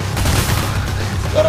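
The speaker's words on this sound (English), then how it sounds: "Who the heck is shooting me?" Gunfire in the heist shooter Payday The Heist, a dense continuous fusillade of shots filling the whole short stretch, loud and close, with a game voice talking over it.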